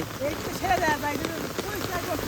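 Heavy rain falls outdoors as a constant broadband hiss, while someone talks loudly and excitedly over it.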